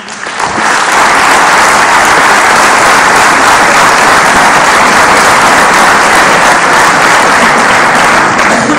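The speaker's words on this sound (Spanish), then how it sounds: "Un aplauso para Chávez." Dense, loud applause from a large crowd at a Venezuelan National Constituent Assembly gathering, rising quickly and holding steady and unbroken for the whole stretch with no talking.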